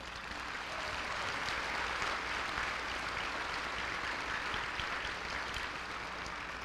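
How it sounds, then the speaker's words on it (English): Sustained applause from a commencement audience, steady and dense with no breaks, a full crowd clapping together for the staff at an outdoor or hall graduation ceremony. "round of applause for our staff"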